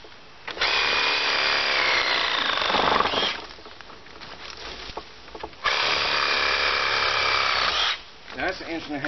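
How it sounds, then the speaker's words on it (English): A saw cuts through an inch-and-a-half tree branch while making mulch for an organic garden, two long, loud, steady buzzing runs broken by a short pause with rustling in between. "That's an inch and a half branch right there. Amazing saw."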